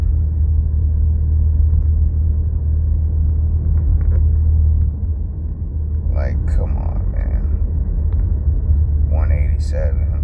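Steady low road rumble from inside a car driving along, constant engine and tyre drone with brief faint clicks and knocks near the end.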